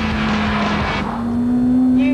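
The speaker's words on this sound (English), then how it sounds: "Under that bonnet is a 2-litre VTEC engine with 197 brake horsepower that just needs to be set free" A Honda Civic Type R with a 2-litre, 197-horsepower VTEC engine drones loudly on a race track, its high, steady engine note holding and edging slightly upward as it runs.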